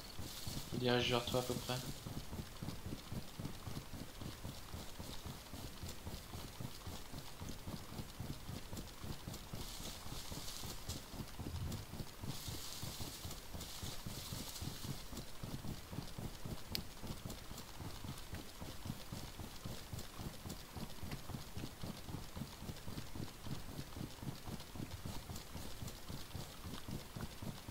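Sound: horse galloping

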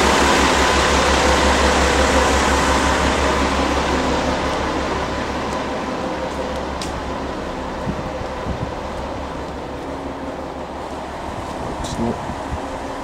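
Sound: JR Kiha 41 diesel railcar engine running

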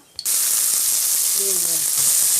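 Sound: chopped onions frying in oil with spices

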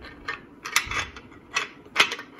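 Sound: Winchester Model 12 shotgun bolt being fed into receiver

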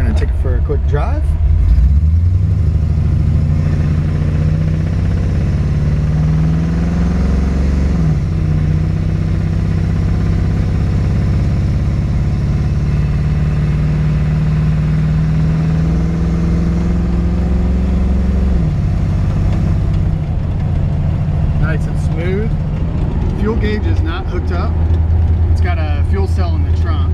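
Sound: 1954 Mercury Monterey with small block Chevy V8 driving

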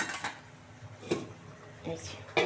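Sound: lid placed over pan of fish curry

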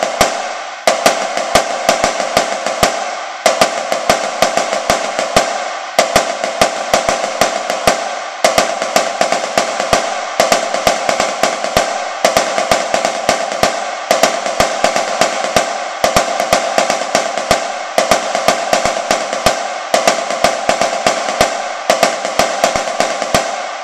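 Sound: snare drum playing paradiddle power cadence with left-hand accents

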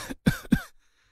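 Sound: coughing

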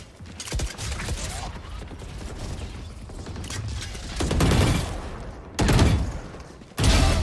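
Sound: Prelude to Chaos Vandal gunshots in the video game Valorant

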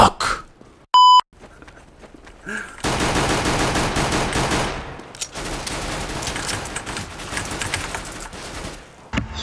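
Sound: bomb planted and beeping in CS:GO video game

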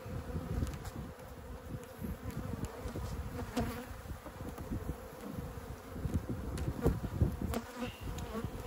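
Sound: buzzing of aggressive honey bees at a hive

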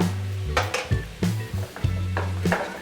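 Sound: stirring chopped green chilies in a pan

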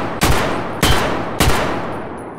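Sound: Lapua rifle gunshot in the video game Escape from Tarkov

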